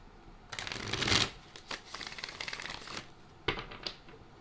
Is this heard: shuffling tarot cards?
yes